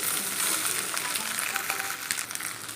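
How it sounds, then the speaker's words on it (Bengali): Okra (bhindi) frying in a pan for bhindi chachchari while being stirred, a dense, loud, continuous sizzle with stirring scrapes, close by. "এভাবেই নেড়ে চেড়ে ভেন্ডিটাকে লাল করে ভেজে নেব"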